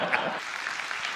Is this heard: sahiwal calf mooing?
no